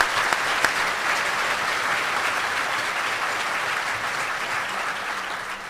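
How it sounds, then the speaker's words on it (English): Steady audience applause fills the room at a welcome session honoring faculty, a dense even wash of clapping that holds throughout and tapers slightly at the end, with no voices over it. "please join me in a round of applause for all of our faculty"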